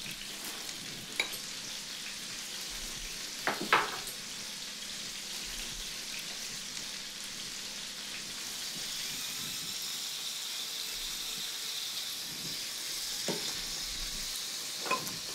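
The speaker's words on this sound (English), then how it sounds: "To mix it well and let it simmer for a while and then taste it" Sauce simmers in a pan with a soft, steady bubbling sizzle, punctuated by a few brief scraping clicks of stirring, faint and continuous throughout with no talk.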